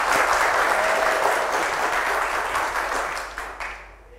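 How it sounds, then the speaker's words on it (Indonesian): An audience applauds at a talk event, with dense, full clapping that starts loud and gradually fades away over the final second. "Tepuk tangannya dong."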